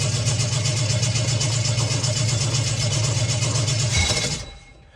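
A 1968 Jaguar 420G engine cranks steadily with a rapid, even starter rhythm for about four seconds, loud and close, then cuts off abruptly into quiet without fully running.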